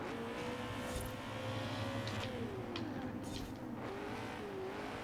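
A BMW GT car in Forza Horizon 4 short shifting, engine note climbing then dropping with each quick upshift, steady loud drone with a brief tire squeal and some rougher bursts, no talk over it.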